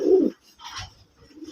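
A sky-blue male gol fotka pigeon gives a deep, close coo, then a second softer, rougher coo follows after a pause, with a faint low coo trailing at the end.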